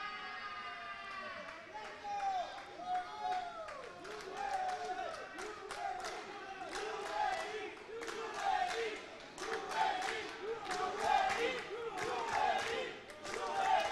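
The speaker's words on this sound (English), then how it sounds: "And the UAE crowd is erupting here, trying to charge on their men" A crowd at an indoor cricket match in Dubai between UAE and England roars and cheers steadily throughout, with bursts of shouting and clapping beneath a commentator's continuous voice.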